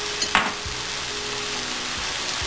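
Spices for chana masala sizzle in a pan with tomato puree, a constant hissing fry close to the mic, broken early by one short sharp clink.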